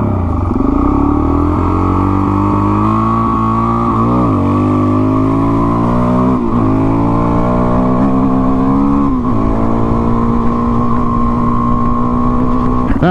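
A dual sport motorcycle accelerates hard from a racing start, its engine loud and close, revving up through rising pitch sweeps with several gear shifts marked by brief dips, sustained without any talking.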